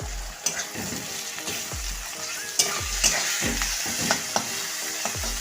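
Garlic paste fries in a pan for a village-style chicken kosha, a continuous sizzle broken by regular scraping strokes of a spatula stirring about once a second, close and fairly loud, without talk.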